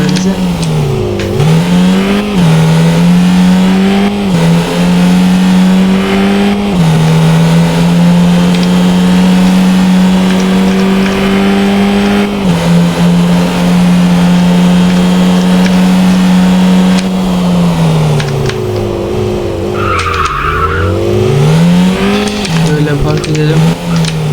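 A car engine revs and shifts pitch in Car Dealership Simulator 2, a steady loud drone that rises and falls through gear changes, with people talking over it.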